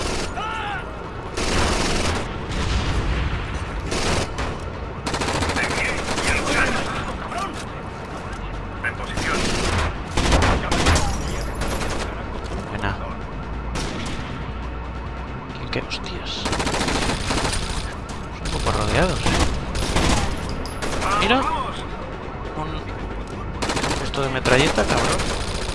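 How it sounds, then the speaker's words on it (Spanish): Sustained automatic fire from a machine gun in the shooter game Rainbow Six Vegas, loud dense bursts and rattling volleys running nearly nonstop, with explosions and shouted voices mixed in. "¡Mira cómo dispara la metralleta!"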